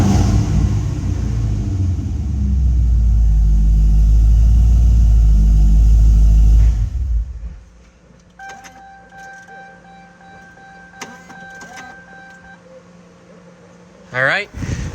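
A C6 Corvette engine roars loudly with revving for several seconds, then drops off abruptly, leaving a quiet idle hum with faint clicks, beeps and a short sharp sound near the end.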